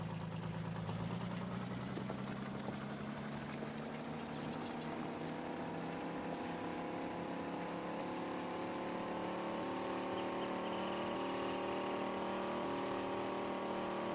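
A John Deere-style 8020 tractor in Farming Simulator 19 revs from a low rumble up to a high, sustained engine whine, rising steadily and holding loud and close, with no voices present.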